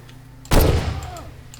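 A single sharp gunshot rings out in the Far Cry 2 video game, one loud close blast with a short decaying tail, with no talk.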